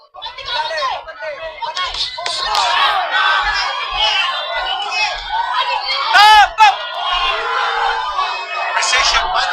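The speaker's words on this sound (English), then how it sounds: "Precision punching coming from Martin. The crowd reacting." Packed boxing arena crowd at the Smart Araneta Coliseum roaring and shouting in waves as punches land, with loud bursts of cheering and whoops, a commentator talking throughout.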